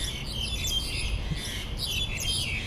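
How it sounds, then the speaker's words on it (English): Birds call in the morning during an outdoor walk, several high chirps and whistled tweets near and far over a low steady background rumble, with no talk. "I hope the microphone is picking up the bird calls"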